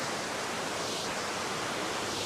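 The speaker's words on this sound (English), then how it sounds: "get close to this waterfall," Cathedral Falls beside the road at Gauley Bridge, West Virginia, gives off a steady, broadband rush of falling water. The close, constant roar has no voices over it.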